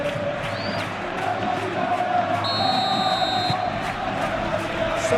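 A packed stadium crowd in a football video game, El Clásico match day, roars in a steady, loud wash of cheering and chanting that fills the whole stretch without a break.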